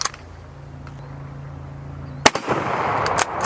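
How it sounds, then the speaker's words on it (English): A rifle firing steel-case ammunition without a muzzle brake, one sharp, loud concussive blast after a quiet stretch, followed by a short ringing tail and a fainter second report. "I don't have the muzzle brake on this thing, so man, the concussive blast is nuts."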